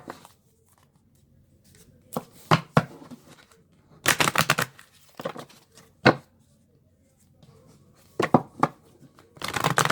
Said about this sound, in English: we'll do a little shuffling of this deck now